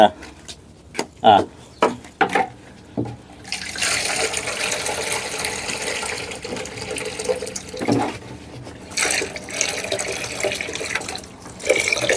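Water gushes from a tap in a steady, loud stream after a few knocks and clatters, with brief pauses and some bumps near the end.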